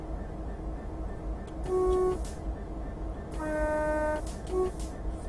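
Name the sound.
DRS Class 66 locomotive horn in Train Simulator 2015 video game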